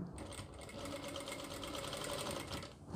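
Household sewing machine running steadily while a long designer kurti is stitched, a continuous close whirring hum with faint mechanical rattle lasting the whole stretch, brief quiet at start and end.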